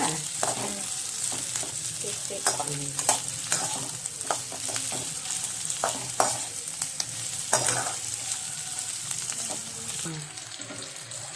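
Onions sizzle steadily in a hot pan while a spoon stirs and scrapes, with irregular clinks and rustles over the constant frying hiss.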